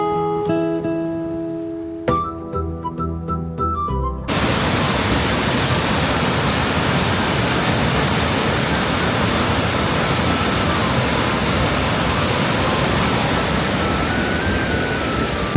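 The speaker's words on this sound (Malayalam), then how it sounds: "ഇതാണ് ചാർപ്പ വെള്ളച്ചാട്ടം." Charpa waterfall on the way to Vazhachal near Athirappilly, swollen in the monsoon, roars loud and steady with dense, hissing rush of falling water. A short stretch of tonal music plays alone before the roar takes over.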